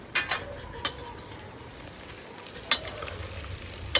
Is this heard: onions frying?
yes